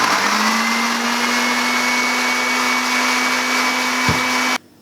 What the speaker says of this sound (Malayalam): ഇനി ഇതിന് ശേഷം നമുക്കിത് ശരിക്കും അടിച്ചെടുക്കാം